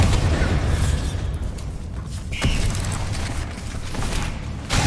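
Bombarda blasting-spell explosions in the Hogwarts Legacy video game, a dense, loud rumbling roar of booms and bursts that carries on steadily throughout, with no speech.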